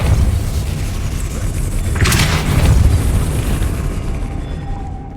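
A Depulso spell cast in the video game Hogwarts Legacy gives a loud, booming blast with a sharp burst in the middle, followed by a rumbling tail over steady game ambience.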